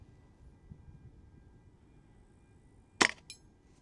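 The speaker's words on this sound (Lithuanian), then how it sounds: "Bandom šauti į didįjį." A single sharp gunshot crack rings out near the end, fired at a target in a 44-metre shooting challenge. A shorter clink follows it, over quiet outdoor background.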